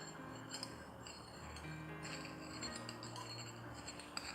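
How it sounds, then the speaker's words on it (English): A glass Florence flask mossarium being cleaned gives off soft, scattered clinks and light taps against a steady background hiss, with one brighter chink near the end. "We're getting the glass clean."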